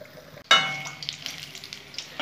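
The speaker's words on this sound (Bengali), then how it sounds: "আস্তে আস্তে আমি এরকম করে লাল লাল করে আমি ভেজে নেবো বড়াগুলো।" Sweet pumpkin fritters (misti kumro bora) dropped into hot oil and fried until reddish, bursting into a sudden loud sizzle that settles into a steady, crackling fry with scattered pops, close by and without talk.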